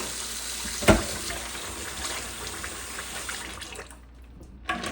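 Cold water running into a container being filled for an ice bath, a steady broadband wash with a sharp knock near the start and a brief drop toward the end.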